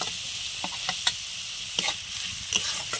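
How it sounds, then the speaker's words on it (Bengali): Chicken being stir-fried in a pan with red chilli powder, coriander powder and garam masala: a steady soft sizzle broken by occasional sharp spatula scrapes and clicks against the pan. "দিয়ে সব একসঙ্গে আমি ভালো করে কষিয়ে নেব।"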